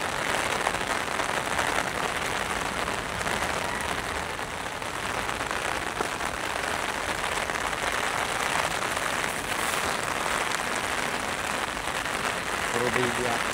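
Heavy rain pours steadily over an old cemetery in Manila, a dense continuous hiss and patter on surfaces with faint voices underneath throughout.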